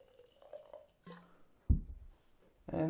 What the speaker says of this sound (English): Now we're gonna add the vodka, the Jersey caramel.